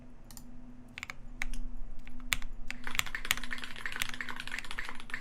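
Dense, rapid clacking of custom mechanical keyboard keys, close up, speeding into a busy flurry of keystrokes partway through over a low steady hum.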